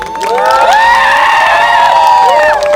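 A live studio audience at a Gujarati radio reality show erupts in loud, sustained cheering and high shouting whoops, close and continuous, with clapping blended in.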